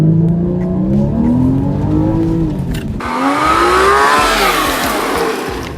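A Porsche Cayman S accelerates hard from 0 to 60, its engine revving up through rising sweeps and a clear gear change partway through. Loud and close throughout, with some tire noise along the way.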